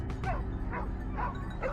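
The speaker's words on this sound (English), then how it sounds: "we were joined by well-trained hunting dogs specialized in sniffing out and tracking down wild boars" Hunting dogs trained to track wild boar yip and bark in several short, excited bursts before a mountain hunt, close by and loud, with whimpering between the barks.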